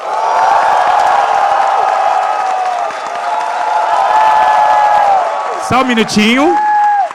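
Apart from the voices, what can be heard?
crowd cheering and applauding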